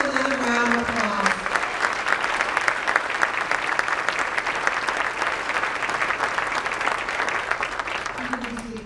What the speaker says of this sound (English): Please give her a little round of applause.